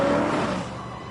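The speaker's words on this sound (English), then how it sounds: "Neil Armstrong's Chevrolet Corvette." Neil Armstrong's 1960s Chevrolet Corvette engine revving, a steady loud roar that eases slightly in the second half with no one speaking.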